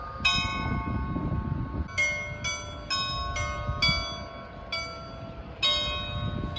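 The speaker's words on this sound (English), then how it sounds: "exactly at 12 noon every day, we hear the bells." Church bells of St. Sophia's ring out at noon in a slow, uneven series of resonant strikes, each leaving a long shimmering hum, heard from a moderate distance.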